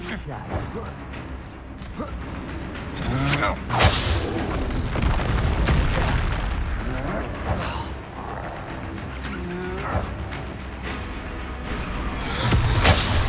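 Confringo and Expulso spell blasts in Hogwarts Legacy, several heavy booms and crashing bursts spread through a busy fight, with a voice calling out over them.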